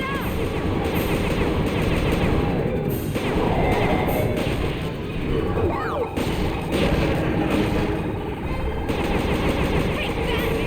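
Shooting and explosions in the video game Sly 2, a dense continuous barrage of blasts, crashes and impacts with game music and occasional character voices over it.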